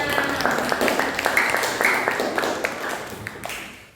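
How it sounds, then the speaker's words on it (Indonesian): Students in a classroom applaud together, a bright rapid spatter of hand claps that holds steady and then tapers off near the end, with a few distinct sharp claps standing out. "tepuk tangan."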